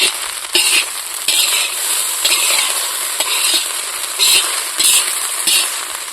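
Egg fried rice with coriander is stirred in a hot frying pan, village style. Loud, close scraping strokes come in a steady repeating rhythm over a continuous sizzle.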